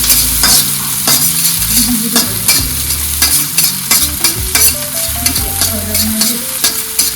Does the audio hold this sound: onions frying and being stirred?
yes